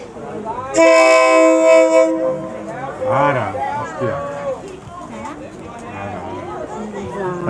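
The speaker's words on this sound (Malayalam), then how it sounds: "വരുന്നു ട്രെയിൻ നമുക്ക് കാണാൻ ട്രെയിൻ വരുന്നതാണ് കാണുന്നത്" A train horn sounds a loud blast lasting about a second as a train approaches through a railway market in Thailand, then people talk excitedly over distant rail noise.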